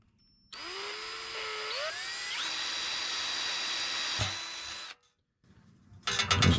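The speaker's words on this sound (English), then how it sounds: "And then I can get my drill." A power drill whines up to speed and holds a steady high-pitched spin for several seconds while boring a hole for a pop rivet, then cuts off, followed by brief clatter.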